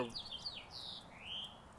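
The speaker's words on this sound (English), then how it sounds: "That was a good bird chirp." A bird chirping outdoors gives a few high, thin sliding tweets, moderately close but faint, over a soft low background rumble, with no one talking.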